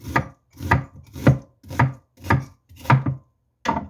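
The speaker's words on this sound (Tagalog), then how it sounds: "So, slice muna natin yung onions." Onions are sliced on a cutting board with a knife in about seven crisp, evenly spaced chops, close and clear with no talking.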